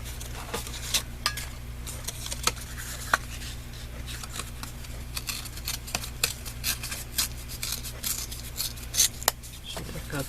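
Scissors cut down a piece of cardstock for card making with a series of crisp snips and crunches spread irregularly through the clip. Faint rustling of paper and a low steady hum run beneath.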